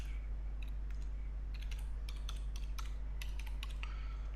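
Computer keyboard typing, a steady run of clicky keystrokes in short bursts over a constant low electrical hum, moderately close and with no voices.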